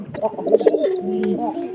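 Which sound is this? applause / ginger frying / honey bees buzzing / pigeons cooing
pigeons cooing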